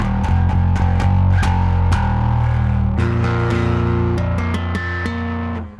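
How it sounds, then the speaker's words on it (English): Distorted electric guitar played through a pedalboard with a Suncoast BC3XL, loud and sustained, with several strummed chords and ringing notes that fade toward the end. "Back to my fun distortion."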